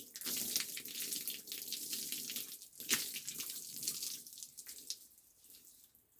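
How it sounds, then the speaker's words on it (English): Hot rinse water is poured over someone's head, a continuous splashing flow with uneven surges that stops near the end, with no talking. "might as well pour the rinse water over my head"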